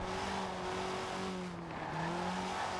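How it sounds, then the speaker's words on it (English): A Porsche 968 engine drones in the video game Forza Horizon 4, a steady mid-level hum with a sustained tone that wavers slightly in pitch, accompanied by road and tire noise throughout. "I never really cared for the 968."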